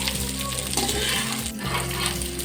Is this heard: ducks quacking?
no